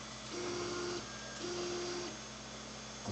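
A 3D printer carriage homes along its Y axis toward the zero end-stop, giving two steady stepper-motor whines about half a second each, separated by a short pause, over a constant fan hum.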